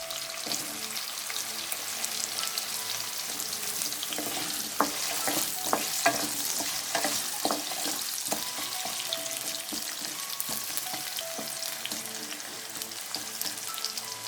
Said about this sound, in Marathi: थोडासा कलर बदलेपर्यंत आपण फ्राय करूया। बटाट्यासोबतच आपल्याला लगेच गाजर पण टाकायचे आहे।